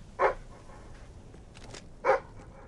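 Two short, clear dog barks from a companion dog in the fantasy video game Fable 3, spaced about two seconds apart over quiet game ambience.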